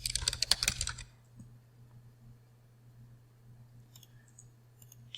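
A quick burst of rapid mouse clicks on a computer during a spreadsheet data upload sounds close and crisp for about a second, then gives way to near silence with a low electrical hum.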